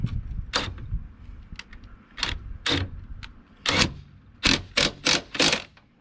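Light clicking and ratcheting taps from a wrench snugging a front strut bolt on a 2011 Nissan Altima 2.5 SL, in short separate bursts that cluster into a quicker run of four or five near the end.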